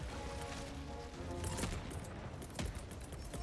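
Mortar fire in Helldivers 2: scattered booms and sharp blasts over a rumbling battlefield din, quiet and distant-sounding, with a couple of stronger impacts mixed into the noise.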